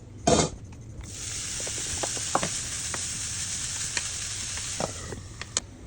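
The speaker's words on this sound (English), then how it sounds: "Now the bacon's all diced up, we're going to let it fry and make it nice and crispy." Diced bacon sizzles and crackles steadily in a hot pan, a continuous frying hiss with scattered pops and a brief louder stir or clatter near the start, no talking.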